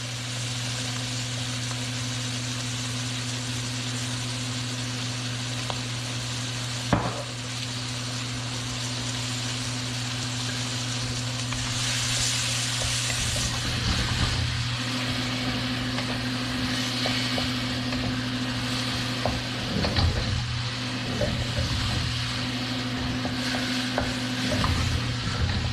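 Beef stir-fry sizzling in a pan with Worcestershire sauce added, giving a steady frying hiss over a constant low hum, with occasional stirring clatter and bursts of louder spitting.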